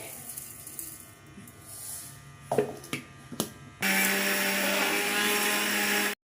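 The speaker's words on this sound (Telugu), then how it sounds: "ఈ పప్పులు నేను గ్రైండర్కి వేస్తున్నాను ఇలా గ్రైండర్కి మెత్తగా చేసుకోవాలి" An electric mixer grinder grinds roasted lentils for curry leaf powder, starting abruptly after a few clunks and running as a loud, steady high whine for a couple of seconds before cutting off.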